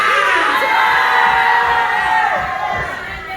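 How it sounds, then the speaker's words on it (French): A church congregation shouts and cheers in victory during a Pentecostal-style service, a loud sustained crowd roar with whoops and yells that fades slightly toward the end. "Est-ce que tu peux te lever pour crier victoire?"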